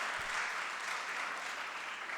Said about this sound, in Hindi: सबसे पहले एक बार जोरदार तालियां बजाइए तो पता चले कि आप में कितना उत्साह है।